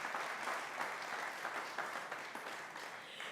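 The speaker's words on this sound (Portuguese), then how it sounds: "nós também pedimos um aplauso para a senhora Vivian" An audience at a Simplemente Antonieta program applauds, dense clapping from many hands that holds steady for a few seconds, heard at a moderate distance without speech.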